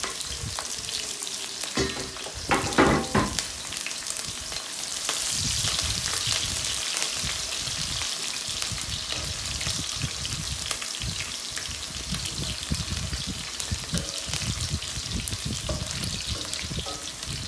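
Onions, shallots and green chilies frying in hot oil with popping mustard seeds for a Kerala fish curry, a steady close sizzle with crackles and a brief stirring clatter early on.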